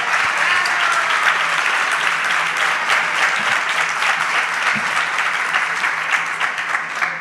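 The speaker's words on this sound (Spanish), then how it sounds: "Yo quiero, primero que todo, pedir un aplauso para la organización del mismo," Steady, dense applause from a festival audience at a cultural event in Santo Domingo, a crowd clapping continuously and loudly with no speech over it.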